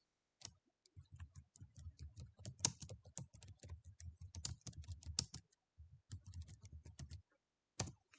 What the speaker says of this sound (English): In the search box, type in Genshin Impact for Windows.